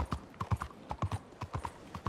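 Horse hooves clip-clop in Red Dead Redemption 2, a steady walking rhythm of crisp, close hoofbeats on hard ground, loud and alone.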